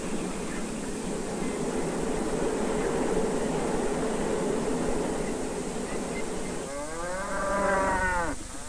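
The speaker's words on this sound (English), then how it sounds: "ships a load of his corn-fattened cattle every few weeks during the summer and fall." Corn-fattened cattle on a farm give a long, loud moo near the end, over a steady broad background hum.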